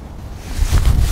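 Wind gusting across an open golf course, a low rumbling buffet that swells louder partway through and stays strong to the end, with no one talking.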